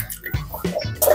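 Water splashes and sloshes in a plastic air cooler tank being rinsed clean, with short bursty pours and a louder gush at the end, close by and with no talk.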